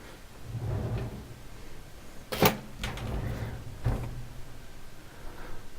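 After scissors are put away, a drawer slides and knocks shut at a workbench, a couple of short close scraping clunks, with a sharp thump partway through amid light handling noise.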